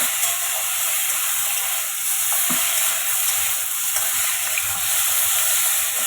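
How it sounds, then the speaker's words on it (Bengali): Okra, potato and onion frying in a pan with salt and turmeric, giving a steady, even sizzle and hiss close by with a few faint stirring clinks, and nobody speaking. "এর মধ্যে দিয়ে দিলাম ভেন্ডিটা নুন হলুদ দেওয়া হয়ে গেছে তো এখন একটু হালকা করে কষে নেব"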